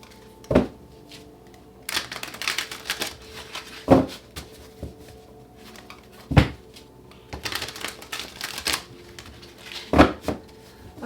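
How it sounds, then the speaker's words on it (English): Tarot cards are shuffled by hand in repeated bursts of riffling and sharp slaps, each pass ending in a crisp tap, spaced a couple of seconds apart and heard up close. "let's get a few more shuffles."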